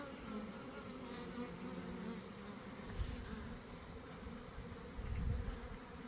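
Honey bees buzz around a hive in an apiary, a dense continuous drone close by, with a few louder swells as individual bees pass near.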